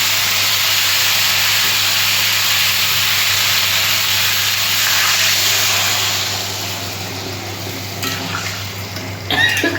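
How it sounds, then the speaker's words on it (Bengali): Water poured into a hot pan of cauliflower, potato and fish curry sets off a loud, steady hiss of steam and sizzle that holds strong for several seconds, then eases slightly, with a few utensil clinks near the end. "আমি এবার জল দিয়ে দিচ্ছি"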